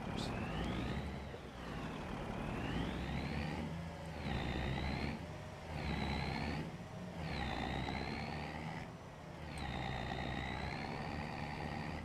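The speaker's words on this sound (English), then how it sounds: "This truck does sound pretty sweet" Truck engine in the video game Farming Simulator 25, a loud steady drone whose pitch rises and falls in repeated swells as the throttle changes, running continuously throughout.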